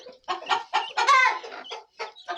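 A bantam hen clucks in a quick series of short, close calls, with a slightly longer squawk in the middle; no talking.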